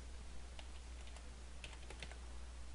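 Quick, light keystrokes tap on a computer keyboard in a short burst, faint and close over a steady low electrical hum.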